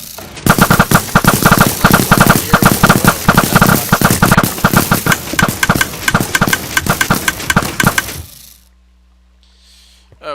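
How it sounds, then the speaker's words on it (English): A hidden machine gun wall trap in Minecraft fires arrows in a rapid, loud, continuous clattering volley for about eight seconds, then cuts off sharply into near silence. "machine gun trap."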